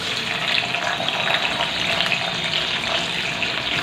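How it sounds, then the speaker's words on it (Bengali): Onions frying in a modest amount of hot oil in a home kitchen, giving a steady, dense sizzle that continues without letup and without talk. "তো এই তেলেতে আর কি আমি দেখো পেঁয়াজগুলো এবার ভেজে নেবো।"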